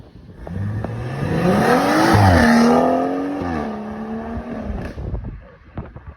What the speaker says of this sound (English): Out now to do some drive-by clips